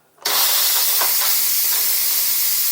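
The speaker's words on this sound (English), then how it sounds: "You release all the steam." Steam bursts from a quick pressure cooker cooking chicken cacciatore, a sudden loud hiss kicking in after a brief quiet moment and then rushing on steadily and close.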